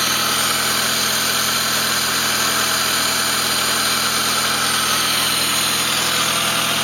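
A car engine idles steadily after a fresh start with no misfire, a smooth continuous hum with an even low rumble and no stumbles, fairly loud and close throughout with no talking.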